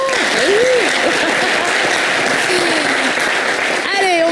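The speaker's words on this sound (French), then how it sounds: "vous pouvez les applaudir, évidemment." Studio audience applauding two football consultants on a TV sports show, loud sustained clapping throughout, with a voice speaking over it at the start and end.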